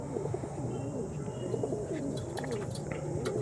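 Several pigeons at a pigeon sale coo softly and continuously up close, with a few faint chirps over a low steady background hum.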